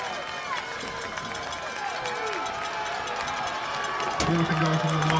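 Crowd noise at a high school football game between Trion and Gordon Lee, a broad, steady roar of cheering spectators heard from a distance, with voices calling out over it and a louder swell near the end.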